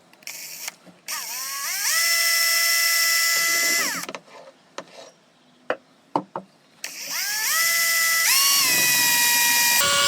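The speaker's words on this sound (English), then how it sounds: "Put your drill on." A power drill mixes epoxy resin in a cup, whining loudly in two long sustained runs with a quiet gap between them, where faint clicks and knocks are heard. The drill spins up briefly at the start.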